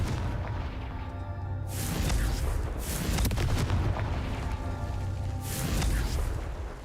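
Repeated Confringo blasting-spell explosions in Hogwarts Legacy, a series of deep booming blasts that swell and fade over a rumbling game backdrop, with no talking.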